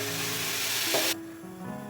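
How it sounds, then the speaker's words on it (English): Rice sizzles loudly while frying in a pressure cooker, a steady dense crackle that cuts off abruptly partway through, leaving a quieter kitchen background with faint stirring. "now that the rice has been frying for the past 5 minutes"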